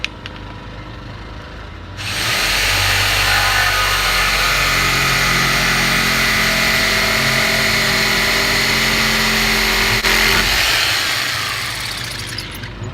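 A power saw cuts through material, starting after a quiet moment, then running loud and steady for about ten seconds before trailing off, with no talk.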